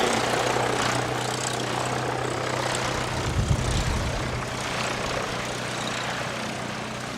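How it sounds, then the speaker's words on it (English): A Cessna 172 Skyhawk SP propeller plane at the Canterbury Aero Club on a windy nor'wester day gives a steady, moderately distant engine drone over wind noise, swelling briefly midway. "here's a baby prop for you. Cessna 172 Skyhawk SP."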